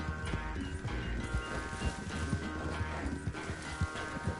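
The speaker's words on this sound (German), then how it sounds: "Was für ein Scheißpferd, Alter." Horse hooves clip-clop steadily in Red Dead Redemption 2, with dense, rapid footfalls over a busy layer of in-game ambience and no talking.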